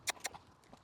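A horse walking, with two quick soft hoof clops early on and then faint, quiet movement, heard alone without talk.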